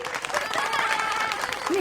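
An audience claps for children who sang and danced, a steady patter of applause under a voice speaking over a microphone.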